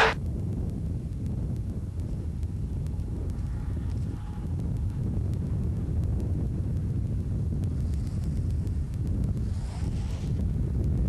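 Wind blowing across an outdoor field while a kite is flown, a steady low roar and buffeting rumble against the microphone lasting throughout, with no voices.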